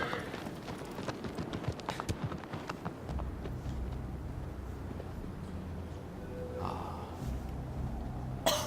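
In the video game Shadow of the Colossus, a horse's hooves patter in quick galloping beats under a steady rushing background, moderately faint, followed by a low rumble and a brief voice.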